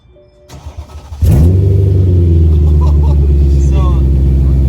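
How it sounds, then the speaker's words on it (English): BMW E92 M3 with the muffler removed fires up after brief quiet, then settles into a loud, deep, raspy idle that holds steady and close; voices talk faintly over it. "now we're gonna hear this thing with no muffler"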